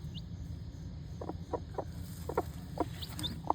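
A hen with her baby chicks in a backyard coop, giving a string of soft, close clucks and peeps spaced through a low steady background, with no talking.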